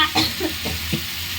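Spice paste for a potol and prawn curry sautéing over medium gas in a pan, with a few soft scrapes and stirs of a spoon over a low, steady sizzle.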